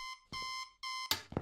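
A digital alarm clock beeps inside the Internet Cafe Simulator game, sounding three loud, sustained electronic tones in an even rhythm, each cut off before a couple of short clicks or thumps.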